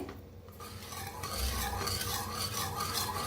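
A spoon stirs and scrapes through a dill leaf vegetable dish in a pan, a steady close rasping and rubbing with a faint sizzle underneath, continuous and without talk.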